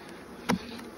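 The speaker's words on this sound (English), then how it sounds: "Plenty of bees." Honey bees buzz around hive frames during an end-of-season hive inspection, with a steady faint hum and one brief louder buzz as a bee passes close.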